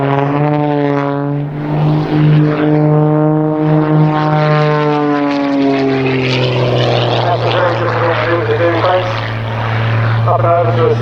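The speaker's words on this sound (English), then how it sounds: "There's Paul hovering, holding it at the top there, kicking it over" A propeller aerobatic aircraft performs stall turns at a centenary air show in Serpentine, Victoria, its engine droning loudly and continuously with rising and falling pitch as it climbs and tips over, while a commentator talks throughout.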